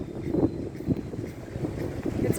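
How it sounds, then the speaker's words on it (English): Wind buffets a microphone outdoors while someone walks through Bulawayo town on errands, giving a continuous low rumble with repeated louder gusts and no speech. "it's probably windy, and so you probably will hear a lot of noise"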